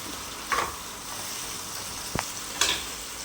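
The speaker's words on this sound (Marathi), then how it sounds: "आता त्याच्यामध्ये वरण टाकून घेऊया आणि थोडं गरम पाणी टाकूया." Dal and hot water poured into a sizzling tempering for Maharashtrian phodniche varan, giving a few sharp hissing bursts with a soft steady fry between them, close and moderately loud, with no talking.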